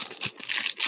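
A plastic wrapper on a 2016 Donruss Optic football hanger pack is torn and pulled open, a short, close burst of bright crinkling and ripping.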